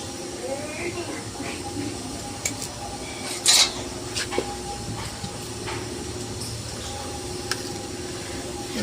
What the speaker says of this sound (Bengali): একটু নেড়ে দেই, মিশিয়ে দেই